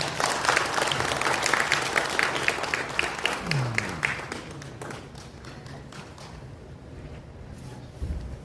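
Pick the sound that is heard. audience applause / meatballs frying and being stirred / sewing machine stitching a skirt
audience applause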